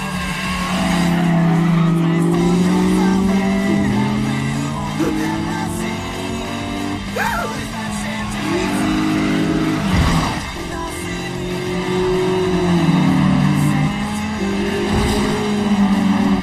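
Anime sound effect of a Toyota AE86 cornering through weight transfer alone: a loud, sustained engine drone with wavering pitch and tire squeal, steady throughout with brief surges.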